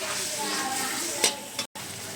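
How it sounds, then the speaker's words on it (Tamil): Masala fries on a medium flame in a pan for white peas kurma: a steady, close sizzle with a stirring scrape near the middle and a brief cut in sound near the end. "மீடியம் ஃப்ளேமில் ஒரு 3 minutes போல் ஃப்ரை ஆகட்டும்"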